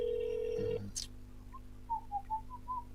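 A telephone call to an observatory starts with a steady tone that cuts off, then a series of faint, evenly spaced electronic chirps over a quiet line hum, with no talk.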